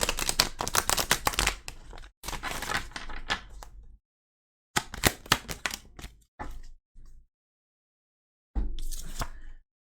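Tarot cards are shuffled by hand in several quick riffling bursts, crisp and close, separated by short silent pauses.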